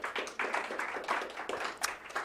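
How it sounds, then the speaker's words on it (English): A small group claps briefly, quick uneven hand claps close by with no talking. "please give them a round of applause"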